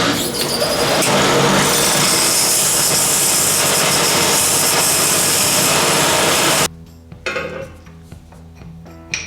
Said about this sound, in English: just come in here and mutilate this stuff with a belt sander